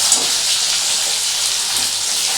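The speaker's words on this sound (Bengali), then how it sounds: "পেটি মাছটা কিন্তু আমি খুব বেশি ভাজবো না" Katla fish belly pieces frying in hot oil: a steady, loud, bright sizzling hiss that holds evenly throughout, with faint crackles and no talk.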